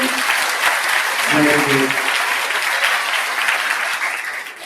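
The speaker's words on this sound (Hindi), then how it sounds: "एक बार जोरदार ताली बजाओ टीचर्स के लिए" Crowd at a meditation program giving the teachers a loud round of applause, dense clapping sustained for several seconds and fading at the end, with a voice speaking briefly near the middle.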